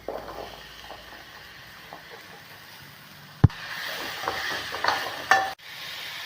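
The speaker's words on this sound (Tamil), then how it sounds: "பீர்க்கங்காயை இப்படியே கிளறி வேக வைக்கலாங்க" Cut ridge gourd cooking with a ground paste in a pan is stirred by spoon, scraping and sizzling steadily with a sharp knock partway through, close and moderately loud with no talking.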